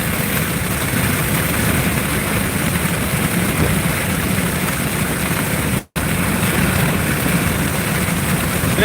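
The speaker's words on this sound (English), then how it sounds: "That's a nice old Ford driving by." An old Ford car drives past, heard as a continuous loud rumbling engine and road roar on a country road, broken only by a split-second dropout.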